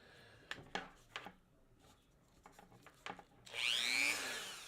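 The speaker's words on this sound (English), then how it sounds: "You're just in time to see me Dremel off my fingertip" A handheld Dremel rotary tool grinds the fingertip off a small Blood Angels miniature, coming in as a loud high whine after a few soft knocks and handling taps.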